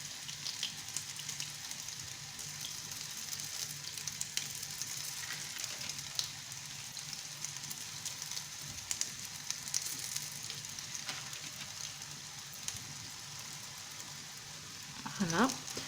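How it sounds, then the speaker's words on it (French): Potato and cheese fritters frying over medium heat in a pan, giving a steady, even sizzle that runs throughout with a few small pops and a brief louder crackle near the end. "On va les laisser cuire de ce côté jusqu'à ce que les beignets soient dorés"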